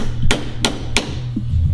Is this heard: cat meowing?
no